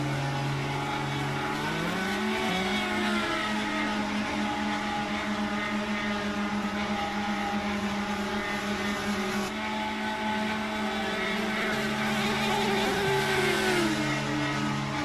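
IndyCar race cars running at Chicagoland Speedway give a loud, continuous engine drone whose pitch rises and falls as cars pass, with several overlapping engine tones throughout.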